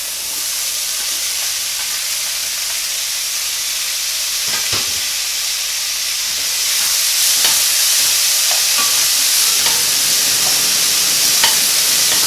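Chopped vegetables cooking down in a hot pan, a loud continuous sizzle and hiss up close with occasional scrapes of stirring, growing slightly louder partway through.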